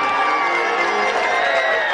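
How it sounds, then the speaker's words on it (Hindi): A large crowd at a live Bhojpuri stage show roars and cheers loudly, a dense continuous wash of shouting and whooping voices filling the space, with hints of clapping under the din. "हम चाहेंगे कि एक जोरदार ताली बजे।"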